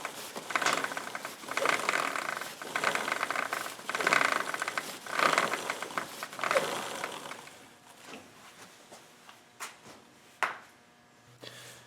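A motorcycle O-ring chain clicks and ratchets steadily as the rear wheel is rotated by hand while the chain is wiped with a rag, the mechanical rattle fading into a few scattered clicks near the end.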